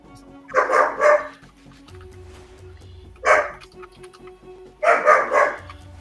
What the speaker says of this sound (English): These dogs are having a conversation.